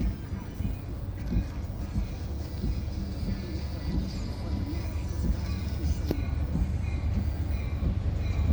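BNSF SD70 diesel locomotive passing with an autorack train, a loud, steady rumble and rolling roar of the train filling the whole clip, with faint metallic clatter and no clear talk.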